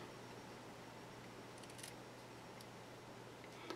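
Scissors snipping through paper while crafting an Easter treat bag, a few faint, sparse cuts over a steady background hum.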